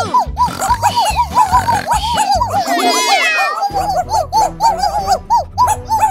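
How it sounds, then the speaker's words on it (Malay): A robot dog yips and whimpers in quick, high, wavering bursts, close and loud, with a brief higher squeal partway through. "Anjing awak menyalak dengan kuat."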